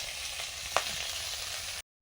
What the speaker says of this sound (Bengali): আর বোয়াল মাছগুলো পরে ভাজতে দিয়েছি, ভাজা হচ্ছে।